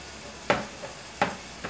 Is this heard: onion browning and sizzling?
yes